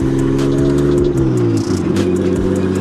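An RB-engined Nissan S13 drift car revs loud and close on a test run, with its engine note climbing and dropping through repeated throttle blips and one shift in the middle.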